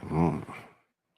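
A voice imitates a dog, giving a short, loud, close bark-like vocal burst that trails off into silence.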